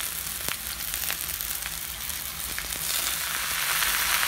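Washed drumstick leaves added to onions frying in a pan with asafoetida, a steady close sizzle with occasional sharp crackles and pops, no talking.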